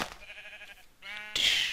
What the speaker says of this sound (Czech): Ovce, pojďte sem.